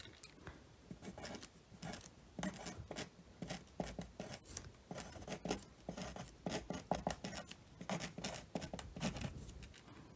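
Close, quiet scratching of handwriting on paper, a steady run of small strokes and taps with no talking.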